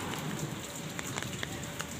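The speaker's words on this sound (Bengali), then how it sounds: "গুড়ি গুড়ি বা ঝিরিঝিরি বৃষ্টি পড়ছে, মেঘের গর্জন ডাকছে আকাশে।" Light drizzle falling on a rooftop garden, a dense steady patter of small drops with scattered sharper taps, close and continuous.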